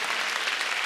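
A church congregation applauds during a Pastor's Day service, a short burst of dense, even clapping throughout.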